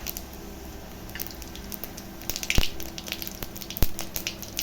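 Cumin seeds sizzle in hot oil with dried chilli, cinnamon, cardamom, cloves and bay leaf while an onion curry cooks, giving a soft steady crackle with a few sharper pops.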